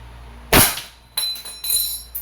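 Crosman SR 357 airgun revolver firing steel BBs in single action: one sharp, loud snap followed by three fainter clicks and metallic impacts spaced over two seconds.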